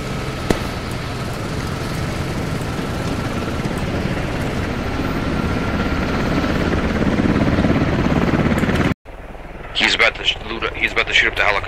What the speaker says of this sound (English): He's about to shoot up the helicopter coming over.